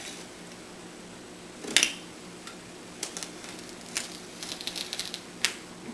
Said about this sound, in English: I'm using a veneer saw, which is more like a bunch of little tiny knives on a saw blade